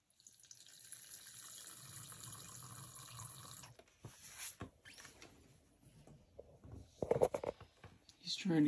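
Water pours steadily for a few seconds for a tarantula, then stops, followed by scattered clatter and handling noises with a voice speaking.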